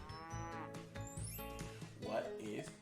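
Several drawn-out cow moos, some overlapping, close and fairly loud against a farm backdrop, with a brief stretch of talking partway through.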